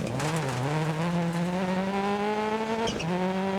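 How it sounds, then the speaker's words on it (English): The engine of a Ford Focus rally car in DiRT Rally 2.0 drones loud and steady with a slight misfire, its pitch rising and dipping as the revs change, with a brief tire scrub near the end. "with the slight misfire in the engine we don't really have as much power"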